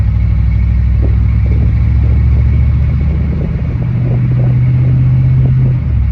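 A 1995 Chevy Z71 truck with throttle-body injection accelerates through its gears, its engine a deep, loud, continuous rumble that holds steady before easing near the end.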